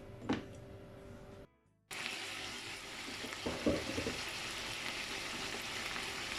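Lamb stew meat sizzling in a covered pot gives a steady, moderately loud hiss after a brief silent gap, with a few soft clatters near the start.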